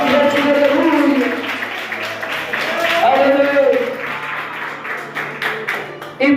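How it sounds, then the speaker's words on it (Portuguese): A church congregation claps in praise during a sermon about the young man Eutychus, and the applause runs continuously under a loud preacher's voice that keeps speaking over it. "Pode aplaudir o Senhor, igreja"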